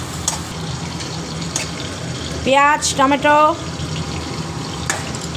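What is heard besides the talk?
water rinsing the mixer grinder jar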